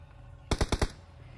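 A quick burst of four sharp gunshots from a PUBG Mobile match, evenly spaced and fairly close, standing out over quiet ambient game noise.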